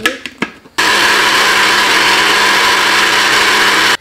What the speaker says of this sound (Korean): 물 부으시고 그냥 갈아주시면 돼요